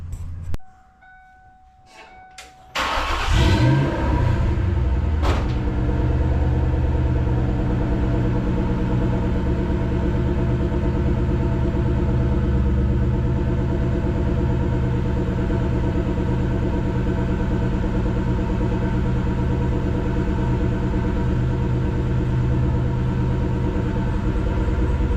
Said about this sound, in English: Let's do a little cold start this morning